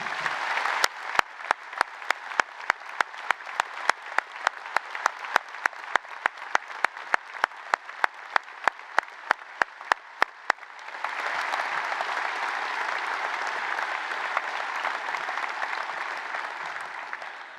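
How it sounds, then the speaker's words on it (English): Graduation ceremony applause at the Carnegie School of Sport, Leeds Beckett University. One nearby person claps in a steady rhythm over a broad crowd for about ten seconds, and then a full, dense roar of audience applause continues. "please, round of applause"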